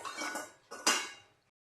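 Roasted peanuts (groundnuts) are rubbed to loosen their skins, giving two quick dry rattling, rustling bursts that are close but quiet and then fade to silence.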